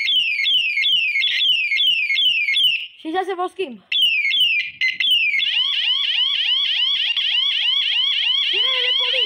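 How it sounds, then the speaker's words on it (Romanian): Police bicycle siren fitted on the dashboard, cycling through several piercing electronic patterns: fast repeating wails, a brief break with rapid chirps, then quicker warbling sweeps. The siren is loud and close, and a voice speaks briefly over it. "Și aici, în bord, mai avem o sirenă."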